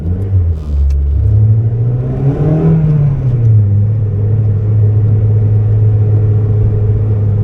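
A Honda Civic coupe, eighth generation, with a swapped K24 engine idles loud and close, then revs up once and settles back to a steady idle with no talk.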